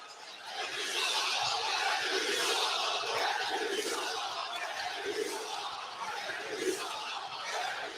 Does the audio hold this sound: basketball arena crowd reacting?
yes